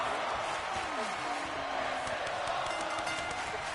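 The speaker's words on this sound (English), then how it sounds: "Crowd loves it." A virtual arena crowd in a wrestling video game roars in a continuous, moderately loud wash, with a voice talking over the noise.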